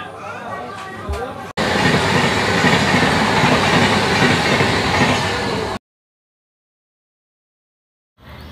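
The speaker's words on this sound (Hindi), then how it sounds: "तो 5 मिनट के स्टॉपेज के बाद अब हमारी ट्रेन छायापुर स्टेशन से निकल चुकी है।" Passenger train, the Patna–Ahmedabad festival special 09418, pulling out of Chhayapuri station: a loud, steady rolling rumble heard close from on board, breaking off into silence before it briefly returns.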